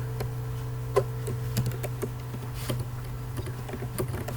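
Keys tapped on a computer keyboard while CSS is typed out in a web-page lesson, irregular close clicks over a steady low electrical hum.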